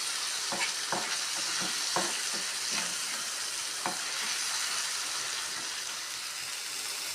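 Spice paste frying in a pan for a mustard rohu fish curry gives a steady close sizzle, with a few soft stirring scrapes in the first half and no talking.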